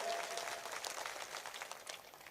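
An audience at a 2023 Urdu poetry mushaira applauds in a steady, dense wash of clapping that stays fairly faint and even throughout.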